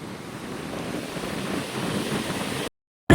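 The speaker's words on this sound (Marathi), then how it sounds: "काय मोठ मोठ्या लाटा येत खतरनाक" Ocean surf at Bandra, Mumbai roars in a broad, continuous wash with heavy wind buffeting the microphone before an abrupt cut.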